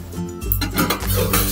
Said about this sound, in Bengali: আমি এখন ঢাকনাটা খুলে নেব।